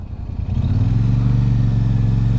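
Royal Enfield Super Meteor 650 cruiser motorcycle engine while riding: a steady, loud, close low rumble that rises and settles into an even drone as the bike gets onto faster roads.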